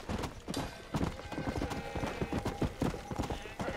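Steady clip-clop of a galloping horse in Red Dead Redemption: Undead Nightmare on Xbox One, rapid rhythmic hoofbeats close and continuous throughout, with a brief whinny-like sound over them.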